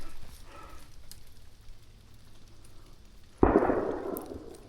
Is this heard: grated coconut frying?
no